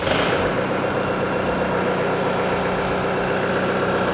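A Yanmar 348a tractor's heavy diesel engine runs at a steady, loud idle, a constant low rumble with no voices.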